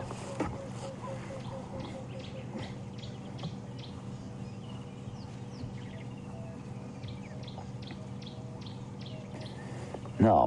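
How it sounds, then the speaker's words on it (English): Birds give repeated short, buzzy alarm calls on an African safari drive at sunrise, fairly faint and scattered over a steady low rumble of vehicle and ambient noise. "You may be able to hear that alarm calling from the birds"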